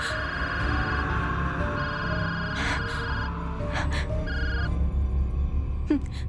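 A telephone rings with repeated electronic tones, partly under a voice and background music, ending with a brief click.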